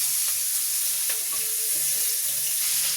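A pan of onions sizzles in hot oil, a constant close hiss with a few faint stirring and clinking touches underneath, even and unbroken, nobody speaking.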